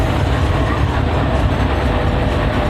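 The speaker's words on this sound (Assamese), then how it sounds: "এইফালে ট্ৰেইনৰ হল্লা" A loud, steady roar of a train rumbling nearby, dense and continuous throughout.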